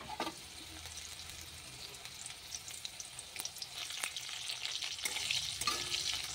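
Potatoes fry in a pan with a continuous soft sizzle, growing slightly louder toward the end, with a few utensil clicks and no talking.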